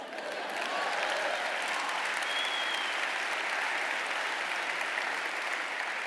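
Large conference audience clapping at INBOUND 2012, a loud continuous wash of applause from a big crowd that swells in quickly and holds steady to the end, with no speech over it.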